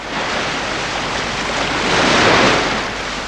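Sea waves at a beach roll in as a broad, loud continuous wash of surf that swells to a peak and then eases, with some wind rumble and no voices.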